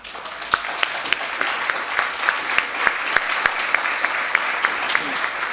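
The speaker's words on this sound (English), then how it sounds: "just ask you to stand for a quick round of applause" Steady applause fills an awards ceremony hall as past award recipients stand, a dense crowd clapping throughout with a few sharp, distinct claps standing out near the front.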